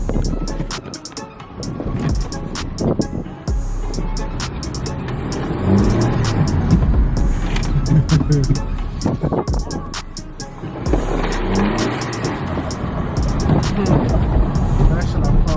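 A Peugeot car drives along at steady speed, its engine and road noise a continuous rumble from start to finish, with someone talking now and then over it.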